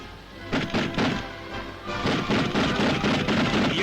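Rapid anti-aircraft guns fire at Soviet aircraft in quick, thudding bursts, a sharp string of bangs repeating at close range, in 1941 wartime naval combat.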